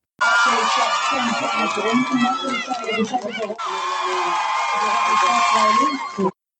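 A crowd in Israel reacts to a hostage release, a steady wash of many voices cheering and shouting together with rising excited cries, heard through a slightly thin, band-limited recording.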